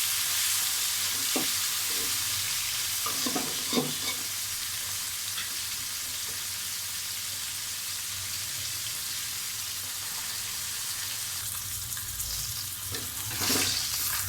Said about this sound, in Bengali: খুব বেশি ভাজবো না, যেহেতু রান্না করবো, হালকা ভেজে নেব।